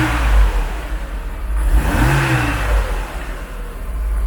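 A Mercedes W124 260E engine, warm, revving once to a rising and falling whine over a steady idle rumble, heard close up with no talk.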